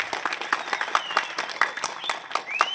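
A crowd at a community gathering breaks into scattered clapping, a brisk patter of hands with a few louder individual claps, moderately close, with no talk over it.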